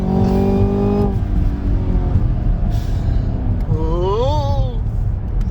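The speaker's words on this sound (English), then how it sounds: "I gotta quit paddle shifting because I keep letting it rev out too long." A 2018 Camaro ZL1 engine roars from inside the cabin under hard acceleration, dropping in pitch at an upshift and then climbing sharply again over steady road and tyre noise.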